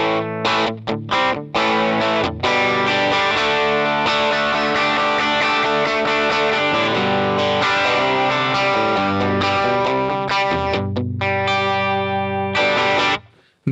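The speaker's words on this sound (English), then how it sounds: "Then we'll go to the Fender Twin Reverb." Electric guitar played through a NUX Solid Studio pedal set to a Fender Twin Reverb simulation, distorted chords and riffs ringing steadily for about thirteen seconds, loud and close with effects and no talk.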